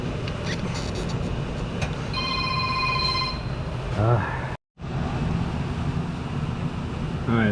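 A telephone rings repeatedly in the background of a garage during a Toyota Camry CV axle replacement, a steady tonal trill under shop noise, followed by a short silence and brief voice-like sounds.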